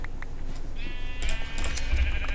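Minecraft sheep bleat a few times, close and clear, in short wavering calls over a faint steady background.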